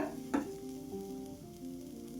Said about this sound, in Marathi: मित्रांनो हीच कढई वापरत आहे मी याच्यामध्ये मी बटर घातलं आणि कढीपत्ता त्याच्यानंतर शिमला मिरची ती पण छान परतून घेते बटरमध्ये